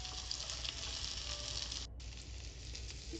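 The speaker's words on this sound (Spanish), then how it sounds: "En el mismo aceite que sobró del pollo agrego la cebolla" White onion strips sizzle steadily in oil left over from frying chicken, a dense continuous crackle with a brief dip near the end, no voices.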